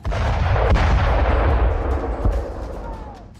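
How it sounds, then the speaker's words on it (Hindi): Heavy gunfire and artillery fire in the battle of Bakhmut, a loud, continuous roar of overlapping blasts and booms with a couple of sharper reports, close and dense throughout. "वैगनर्स इमारतों को ध्वस्त करने के लिए हैवी फायरिंग कर रहे हैं"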